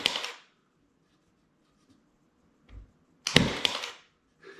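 A Milwaukee cordless 23 gauge pin nailer fires pins, giving a few sharp, short snapping shots spread apart with quiet gaps between them, one doubled burst near the middle.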